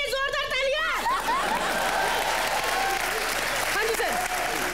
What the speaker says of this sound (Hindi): खट्टे के लिए जोरदार तालियां